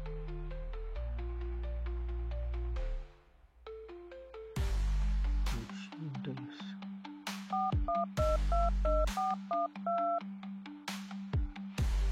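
Telephone keypad tones in an Amharic drama scene: a long run of clear, close beeps dialed in quick, uneven bursts, followed by a stretch of rapid two-tone presses, all without speech.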